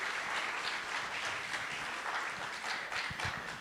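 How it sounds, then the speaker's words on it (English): An audience at a church talk gives a round of applause, steady, moderately loud clapping sustained throughout with no voices over it. "So one more round of applause for Archdeacon Mark."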